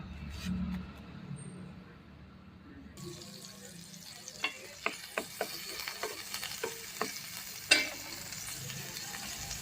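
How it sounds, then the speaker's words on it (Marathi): Pav stuffed with masala, chopped coriander and fine sev toasts on a pan, a low sizzle under a series of sharp taps and clinks of a spatula, fairly quiet and close. "पाव बंद करून पुन्हा भाजून घ्या"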